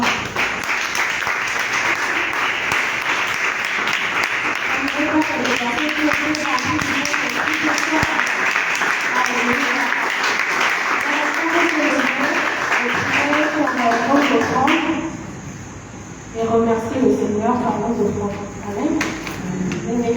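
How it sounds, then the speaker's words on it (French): A church congregation bursting into applause and cheering for the Lord, a dense sustained clapping with voices mixed in, dropping away near the end as a preacher's voice carries on. "Est-ce qu'on peut acclamer pour le Seigneur?"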